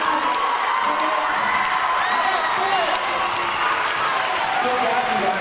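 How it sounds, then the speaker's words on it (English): A crowd applauds and cheers steadily for students at an 8th grade US history tournament, with scattered whoops and shouts over continuous clapping that holds at a loud, even level throughout. "A round of applause for both of these students."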